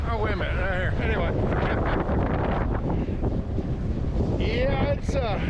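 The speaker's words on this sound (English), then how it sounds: "Oh man, you don't think the wind's blowing." Strong outdoor wind as a front moves in buffets the microphone in loud, continuous gusts, with someone talking over the roar throughout.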